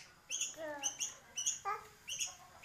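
A month-old young sooty-headed bulbul chirps in short, thin, high notes repeated in a quick irregular series, close up and faint, with no talking over it.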